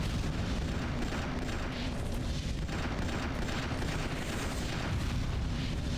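Heavy anti-air turret and SAM fire in the video game Destroy All Humans, a dense, continuous barrage of booms and blasts that stays loud and unbroken throughout.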